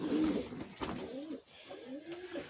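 Pigeons kept for breeding, five weeks old among them, coo at close range in a few soft, rising calls, with a louder burst at the start and quieter coos spaced through the rest.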